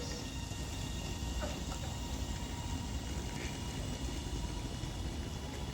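A steady, low rumbling drone of a nine-coach electric passenger train accelerating out of Wigan North Western station, constant and fairly loud, with a faint whine riding above the rolling noise.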